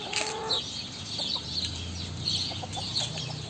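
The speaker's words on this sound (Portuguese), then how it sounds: "Essa daqui tá querendo ficar choca, gente. Ela tá cantando choco." A broody free-range hen clucks near the microphone in a series of short, irregular, throaty calls, with a longer cluck near the start and quieter farmyard background behind.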